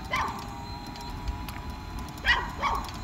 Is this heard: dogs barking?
yes